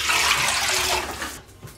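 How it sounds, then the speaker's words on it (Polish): A litre of water gushes steadily into a pot for about a second, loud and close, then tapers off abruptly. "Do garnka wlewam litr wody."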